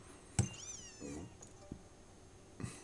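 A cat's meow from a Pokémon video game, with a few short, faint mewing calls and a small purring trill separated by quiet pauses, heard alone.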